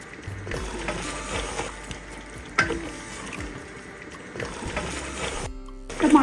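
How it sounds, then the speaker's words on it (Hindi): Chopped tomatoes are stirred into mutton and potato curry frying in a pot, with repeated scraping strokes and wet squelching over a soft sizzle, close and moderately loud without speech. "टमाटरों को मिक्स कर दें"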